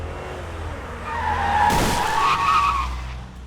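Dramatized car sound effect on a street: an engine rises as the vehicle approaches, then a loud, sustained tire skid squeals for about two seconds before fading, with no voices.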